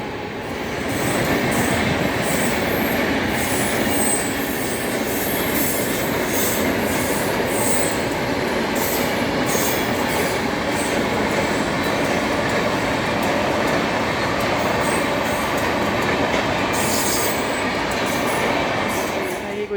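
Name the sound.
express train passing through a railway station at night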